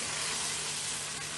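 Liver frying in a pan with ketchup just added gives a short, steady sizzle and hiss up close, brief and even throughout.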